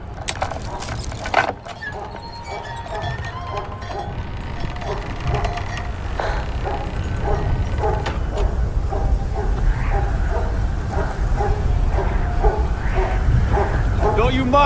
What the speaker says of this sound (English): Mind my dog